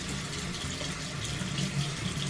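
Water runs steadily from a bathroom sink tap during a nighttime skincare routine, a continuous close splashing hiss with no talking.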